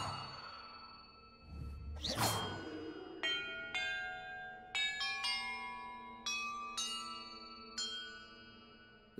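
Bells rung one after another in the video game Hogwarts Legacy, a sharp whoosh followed by a series of clear ringing chimes at different pitches, each struck tone sustaining and overlapping the last.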